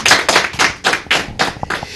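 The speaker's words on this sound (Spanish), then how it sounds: "un aplauso para todos ellos también que nos ven" Clapping for everyone watching at the launch of a school wrestling show, heard as a run of seven loud, fairly even claps or thumps with no talk over them.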